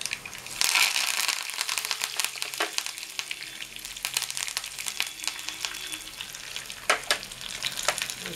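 Curry leaves crackle in hot tempering oil for a dried prawn roti pachadi with sorrel leaves, a loud, close, continuous sizzle punctuated by sharp popping bursts and occasional stirring scrapes.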